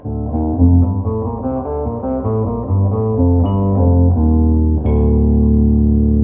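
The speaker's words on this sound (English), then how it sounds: "But you can hear the Rhodes sound." Mellow Rhodes-style electric piano chords from an Electro-Harmonix Key 9 pedal play a short melodic phrase with a doubled lower octave, warm and sustained, ending on a held chord.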